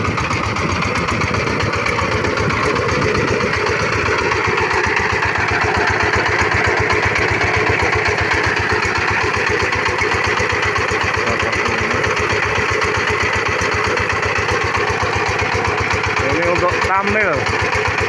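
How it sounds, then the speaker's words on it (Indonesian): A water pump engine running to irrigate a shallot field from a bore well, a steady loud mid-pitched chugging drone that holds for the whole stretch, with a person talking nearby over it. "Nah, ini mesin saya."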